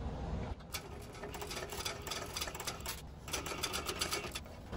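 A sewing machine stitches a seam on a fabric bag, its needle running in a fast, steady mechanical chatter with brief pauses and restarts, close and clear with no talking.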